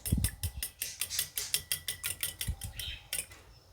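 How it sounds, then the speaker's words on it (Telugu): Eggs with salt and Maggi masala are whisked in a bowl with a utensil, giving a fast, steady series of close clinking taps against the bowl's side. "ఇలా ఎగ్స్ని ఒక బౌల్లో వేసుకొని టేస్ట్కి సరిపడా సాల్ట్ వేసుకోవాలి కొంచెము మ్యాగీ మసాలా వేసుకోవాలి వీటన్నిటిని కలిపేద్దాం"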